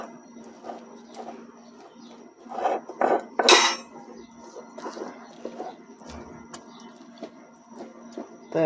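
A spoon scrapes and clacks against a bowl while a rested batter of semolina, banana and egg is mixed again, in irregular close knocks and stirring bursts.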